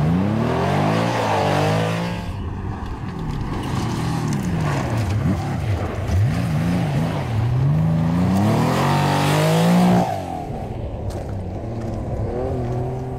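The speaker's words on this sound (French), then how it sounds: "C'est la Porsche du jeune Louis Baudran qui signe le premier scratch" A Porsche rally car races on a stage of the 2023 Morocco Historic Rally, its engine revving hard in rising and falling sweeps through gear changes, loud and close, with no speech.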